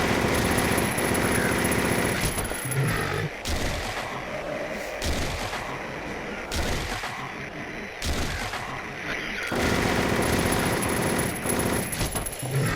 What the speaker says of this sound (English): let's see how the machine gun works against our insane cancer friend.